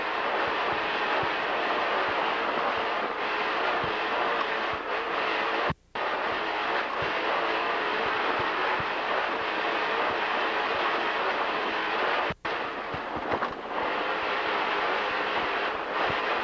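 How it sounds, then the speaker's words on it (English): Two 900-horsepower Mercury inboard engines drive an offshore racing powerboat at the 1996 Key West Offshore World Championships, making a loud, continuous broadband roar that breaks off in two brief dropouts. "Ohio Steel powered by two 900 horsepower Mercury inboards."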